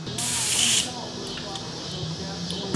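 Blue paint is sprayed onto a homemade engorged tick lure in one loud, steady hissing burst lasting under a second, followed by quieter room sound with faint background noise.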